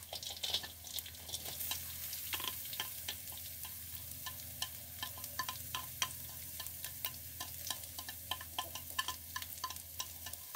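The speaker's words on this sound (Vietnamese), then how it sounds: "mình sẽ để cái phần khô mực và tôm khô này vô để mình xào" Dried squid and dried shrimp stir-fried with fragrant shallots in a pan, a steady sizzle running throughout with frequent scraping and tapping of a spatula stirring the ingredients, close and continuous with no talking.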